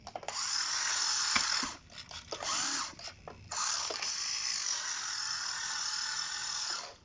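A Kyosho Mini-Z 1/32 scale RC car's small electric motor running in reverse, a high, thin whine that holds steady for stretches and breaks off briefly in the middle, close by.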